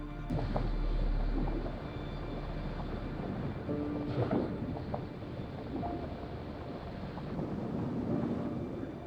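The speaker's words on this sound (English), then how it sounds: "It's just too windy to be in the air." Strong wind buffets the microphone in a constant roar while paragliding over the Colorado Rockies, with gusts rising and falling and a faint engine-like drone beneath.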